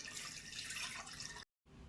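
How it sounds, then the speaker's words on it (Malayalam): A glass of water pours into a mixer jar that already holds egg, a brief close splashing rush that cuts off abruptly. "ഒരു ഗ്ലാസ് വെള്ളം ഒഴിക്കാം."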